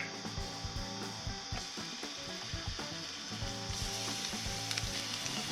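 Bacon sizzles and spits in a pan on an induction cooker, a steady, dense frying crackle with scraping and clicks throughout, close and alone with no voices.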